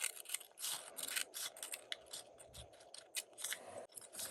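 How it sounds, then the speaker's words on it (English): Scissors snip through a paper craft tag, slicing it in half with a quick series of sharp, crisp cuts close to the microphone, and no one speaks. "I'm going to cut this one in half."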